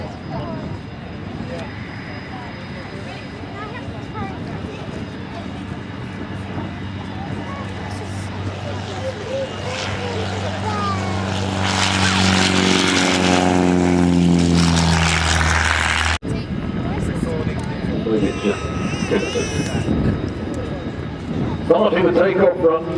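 Boeing P-8 Poseidon maritime patrol aircraft beginning its takeoff run at Farnborough Airshow 2014, a steady jet engine roar that swells and whines louder as it builds, with someone commentating over it.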